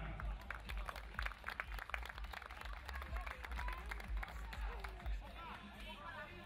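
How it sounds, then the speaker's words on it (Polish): Stadium crowd at an England v Spain amp football group match applauds an injured player during a break in play, a dense wash of clapping and crowd noise with commentary running over it. "gorący brawa dla zawodnika"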